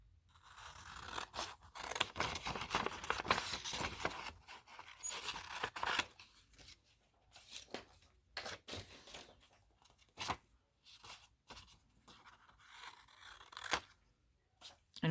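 Scissors snip through paper, cutting out fairytale pictures for a collage: close, uneven bursts of crisp cutting and rustling with short pauses between strokes.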